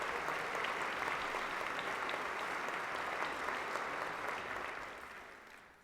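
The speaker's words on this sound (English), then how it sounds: "how about a nice round of applause for the young people." Audience applause for young people at a Patriot Day breakfast, a steady, fairly distant crowd clapping that holds evenly for several seconds before tapering off at the end.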